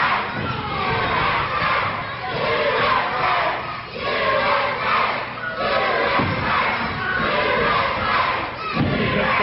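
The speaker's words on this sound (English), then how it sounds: "Here comes that USA chant again." Lively pro wrestling crowd in Cuba chanting "USA" in loud, rhythmic, repeated bursts, with shouting and stomping mixed into the chant.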